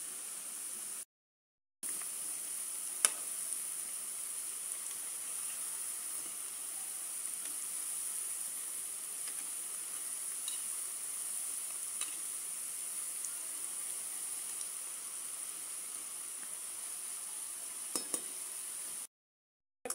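Medu vadas deep-frying in oil over a low flame give a steady, even sizzle and hiss that runs without a break, close by, with no one talking.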